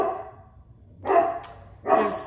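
A dog indoors gives two loud, close barks about a second apart, each ringing briefly into the room after a quiet stretch.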